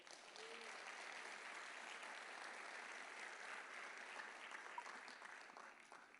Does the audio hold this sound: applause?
yes